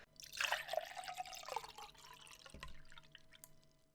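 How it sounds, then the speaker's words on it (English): Water is poured into a glass until it is filled to the brim, heard as faint close trickling and dripping with a few splashy bursts early on, then thinning into quiet drips. "That was me pouring some water into a glass, by the way."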